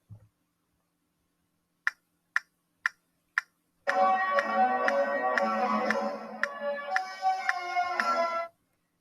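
A few metronome ticks, then a full concert band enters with sustained, layered chords from low brass to high woodwinds, ticks continuing underneath.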